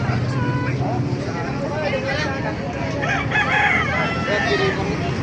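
Busy outdoor animal market din in Baliuag with chickens crowing and clucking, turkeys and other fowl calling over a constant hubbub of people talking nearby.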